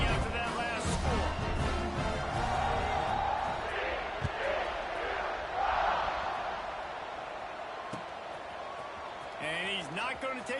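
Stadium crowd buzzing in a college football video game, Texas Tech versus West Virginia, a rolling roar of cheers and whoops swelling and fading beneath commentator talk, with a few sharp thumps.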